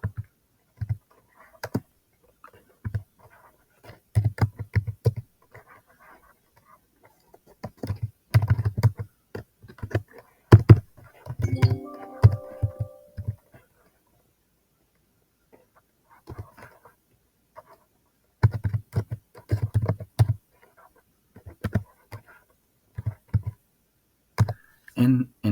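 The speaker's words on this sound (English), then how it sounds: "Then here type this command," Someone types a PowerShell command on a computer keyboard in a quiet room, with irregular bursts of crisp key clicks separated by short pauses and a longer silent gap midway.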